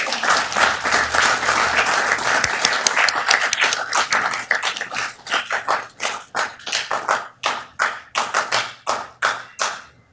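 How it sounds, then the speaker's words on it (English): Audience at a Downey city council meeting gives a round of applause. It starts as a loud, dense burst of many hands, then thins out to a few lone clappers whose separate claps ring out sharply before it fades. "Let's give them a round of applause."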